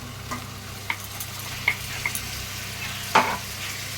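Chili powder, coriander, Kashmiri chili and cumin sauté with tomato paste in a pan for mutton biryani, a low steady sizzle close by, broken by several sharp scraping stirs.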